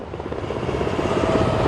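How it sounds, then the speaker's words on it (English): Security helicopter flying over a stadium pitch, a loud, dense rotor roar with a fast rhythmic chop that builds slightly, filling the whole moment with no talk. "That is the security helicopter."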